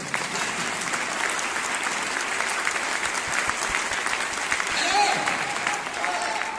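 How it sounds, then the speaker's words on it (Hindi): Steady crowd applause rings out at a promotion-day meeting in honour of a senior, dense and sustained throughout with voices mixed faintly underneath. "तो वैसे सीनियर के लिए आप जोरदार ताली लगा लीजिएगा"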